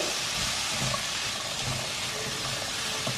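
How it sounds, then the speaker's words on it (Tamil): Chopped apples sautéing in butter in a pan make a continuous broadband hiss, steady and fairly loud, with no voices over it. "ஒரு 2 மினிட்ஸ் நல்லா வதக்கிடுங்க. பட்டரில் குக் ஆகட்டும்."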